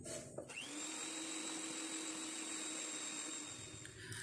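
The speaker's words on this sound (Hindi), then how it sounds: "सबसे पहले मक्खन को बीट करते हैं" An electric mixer beats butter for chocolate walnut brownie icing, a steady high whine that starts abruptly, holds level for several seconds and then stops.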